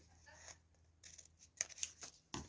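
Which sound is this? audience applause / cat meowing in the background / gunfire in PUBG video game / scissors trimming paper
scissors trimming paper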